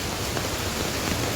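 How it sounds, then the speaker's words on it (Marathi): Heavy rain pours down beside the Valdhuni river near an ancient temple built in 1060, a dense, unbroken hiss of falling water that stays loud and steady throughout with no voices. "पाऊस जोरात आहे त्याच्यामुळे"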